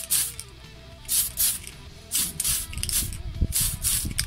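Short bursts of aerosol spray paint hiss onto a Tamiya Ford Escort custom model car body, roughly seven quick puffs separated by brief gaps, with faint handling noises underneath.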